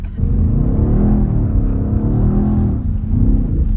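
A loud BMW XM engine rumbles and revs up and down in waves while drifting, close and continuous, with the pitch rising and falling.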